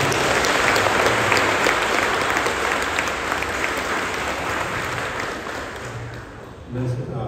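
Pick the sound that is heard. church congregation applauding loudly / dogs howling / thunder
church congregation applauding loudly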